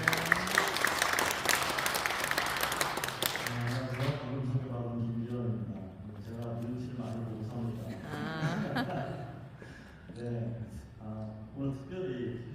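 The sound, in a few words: audience applause at a forum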